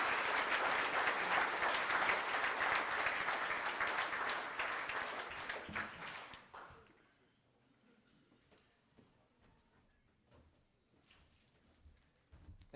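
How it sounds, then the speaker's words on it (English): Applause at a softball hall of fame awards ceremony: a dense crowd clapping loudly for about six seconds, then fading into scattered claps and quiet room noise. "let's give a round of applause for David"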